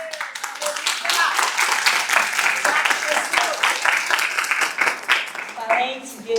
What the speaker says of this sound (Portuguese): Vamos aplaudir ou não?